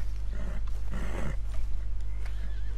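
A wild horse neighs in Red Dead Redemption 2, a shrill whinny rising in the middle of the clip over a steady low game hum, with fainter snorts and shuffling around it and no speech.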